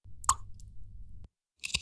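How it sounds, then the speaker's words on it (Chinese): A single dried plum drops into a cocktail mix with a short, close, wet plop, followed by brief quiet handling noises. "加入一颗话梅"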